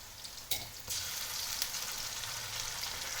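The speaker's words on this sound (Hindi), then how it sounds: "प्याज हमारा हल्का हल्का सा फ्राई हो चुका है" Onions fry in a pan with a steady, bright sizzle, and a brief louder hiss and stir comes as garlic and ginger paste go in. The sound is close and fairly quiet, with no talking.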